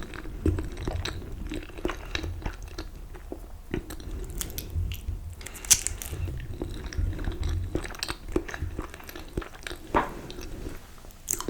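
Close-up eating of exotic fruits like pawpaw, jackfruit, mangosteen and guava: soft bites, wet chewing and occasional crunchy snaps with squishy mouth sounds, intimate and near throughout, no talking.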